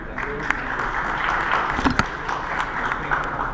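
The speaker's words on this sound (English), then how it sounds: "Ladies and gentlemen, a round of applause for these gentlemen." Audience applause for legendary footballers on stage at a friendship match event in Lahore, a moderate wash of clapping with scattered sharper claps, heard at some distance.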